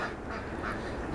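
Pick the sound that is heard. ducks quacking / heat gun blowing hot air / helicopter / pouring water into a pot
ducks quacking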